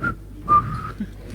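A person whistles two short, bright notes, the second held a little longer, close and clear over a quiet studio background.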